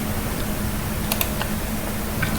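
Quick, light clicks of a computer keyboard being typed on, a few scattered keystrokes over a steady background hum.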